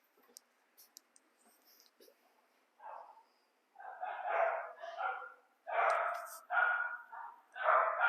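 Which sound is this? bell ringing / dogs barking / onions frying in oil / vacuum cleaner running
dogs barking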